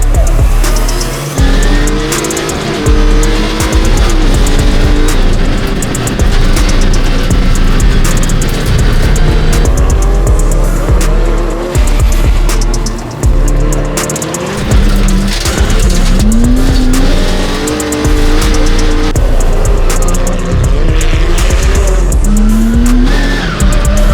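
A rallycross race car launches hard off the start line, its engine roaring loud and close with squealing, skidding tyres and rapid gear changes as it surges away, the high revving continuing without pause.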